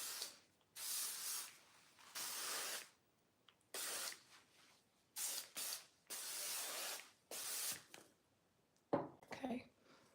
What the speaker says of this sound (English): I'm just gonna spray a little bit of this in my hair